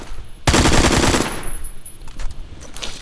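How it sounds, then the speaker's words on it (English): AK-47 gunfire in a video game shooter, a loud rapid burst of automatic fire lasting under a second, followed by scattered clicks and softer game noises. "Never used the AK-47."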